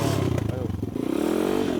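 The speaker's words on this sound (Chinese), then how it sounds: "这个运动咱会骑到这台是越野机车" A dirt bike's engine idles roughly, then revs up in a rising whine over a brief clatter, close and loud.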